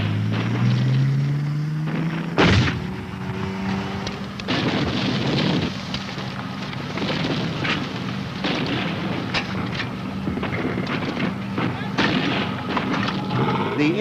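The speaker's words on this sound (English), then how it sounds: "The tanks give covering fire." Tank guns and heavy weapons firing covering fire during a 1983 British Army training exercise, several booming reports with one sharp nearby blast amid rumbling battlefield noise and engine drone.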